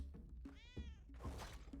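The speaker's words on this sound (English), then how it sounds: "Where's this cat? I keep hearing him." A cat in the Spelunky game meows once clearly in the middle, over a steady low game rumble with soft thunks around it.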